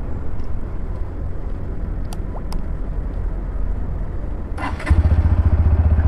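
A 2024 Bajaj Pulsar NS125 motorcycle starts up after a short crank, then settles into a loud, close, steady idle over a background hum.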